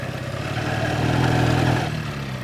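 A Daytona motorcycle rides a dirt road in the Carpathian countryside, its mid-pitched engine running steadily up close with a low rumble and rattling clatter, swelling briefly before easing off.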